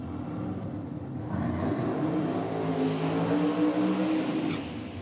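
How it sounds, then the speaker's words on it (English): Cars doing burnouts at a drag racing event, a sustained engine drone and revving at moderate distance, steady for several seconds without speech. "No sense competing for decibels when those guys are doing burnouts"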